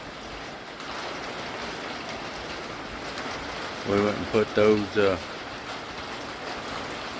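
A light rain shower falls outdoors on a rural property, a soft steady patter and hiss throughout, with someone speaking briefly over it partway through.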